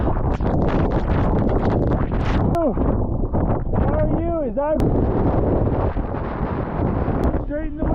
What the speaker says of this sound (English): Oh my, it's a little bit windy out there.